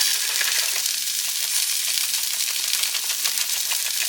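Bacon bits sizzling in a frying pan, a steady, even crackling hiss held close with no voices over it.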